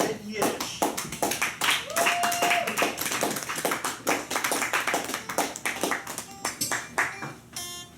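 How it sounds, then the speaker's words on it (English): Audience applause and scattered cheers at a Gallery Cabaret poetry reading in Chicago, welcoming a poet to the stage; steady dense clapping runs the whole stretch, with a brief whistle or voice rising over it midway. "let's give a big, huge round of applause to one of the most innovative poets in the city of Chicago"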